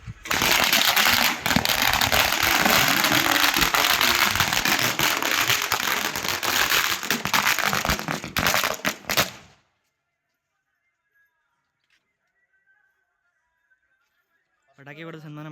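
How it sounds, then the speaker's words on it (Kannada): Firecrackers burst in a village send-off for a cow being loaded for transport: a dense, rapid, loud chain of cracks and pops that runs for about nine seconds, then stops, leaving near silence before voices return. "ಪಟಾಕಿ ಹಚ್ತಾ ಇದೆ"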